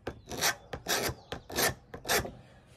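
A hard object scrapes across a Trex Transcend composite deck board in five short, rasping strokes with brief pauses between them, close and fairly quiet.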